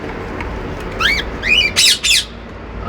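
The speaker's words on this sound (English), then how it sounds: "here comes the parakeets or budgies, or Australian parrots" Parakeets or budgies, Australian parrots kept in an aviary, give several loud, harsh squawks in quick succession over a steady background hiss, with no talking.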